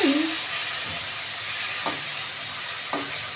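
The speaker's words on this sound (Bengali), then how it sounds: "তেলে মাছটা দিয়ে দিলাম মাছটা একটু ভাজা হয়ে যাক" Fish frying in hot oil in a home kitchen pan, a steady close sizzle and hiss throughout with a few soft clinks of a utensil, no talking.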